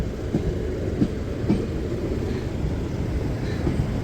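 An eight-car passenger train passes a level crossing at Liss station, a steady loud rumble with rhythmic clickety-clack wheel beats over rail joints, close by and without talking.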